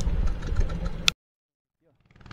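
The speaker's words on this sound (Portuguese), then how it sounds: "Epa! Motor falhando." A motor running in the Amazon rainforest sputters roughly for about a second, then cuts out abruptly into near silence, with faint sounds returning at the end.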